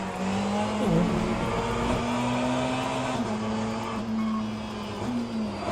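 A race car in the Le Mans Ultimate racing simulator locks its tires under braking, the steady engine drone shifting and wavering as the tires scrub, with no talk.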